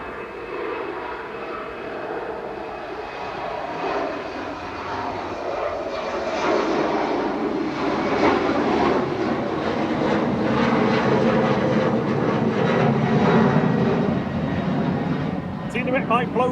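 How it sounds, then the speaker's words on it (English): Helvetic Embraer E190 jet for Swiss departing Manchester Airport toward Zurich, engine roar building gradually and sustaining loudly at a distance while someone talks over it. "Helvetic E190 heading back to Zurich now for Swiss with flight 381"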